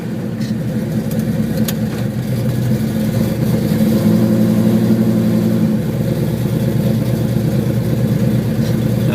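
1971 Chevelle SS 396 V8 idling and running while backing up, a loud steady low rumble that deepens briefly in the middle, heard alone without talk.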